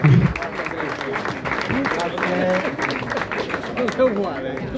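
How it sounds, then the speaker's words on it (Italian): An audience applauds at a Sardinian sports awards ceremony: moderate, continuous clapping, mixed with voices and the sound of a busy hall. "Un applauso ragazzi, Latte Dolce se lo merita tutto questo applauso."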